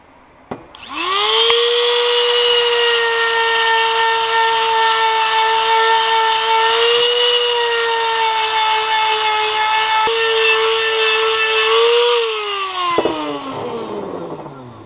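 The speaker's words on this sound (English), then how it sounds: "let me Dremel tool this out and flatten it out" Dremel rotary tool grinding a go-kart part flat, a loud, close, high-pitched whine that spins up quickly, holds steady for about eleven seconds with slight pitch dips under load, then winds down.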